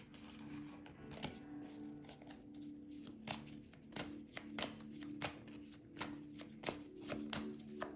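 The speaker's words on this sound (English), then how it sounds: "Let's do another shuffle." A deck of cards being shuffled, with repeated crisp riffling bursts and snaps at an uneven rhythm, close and fairly quiet, with no talking.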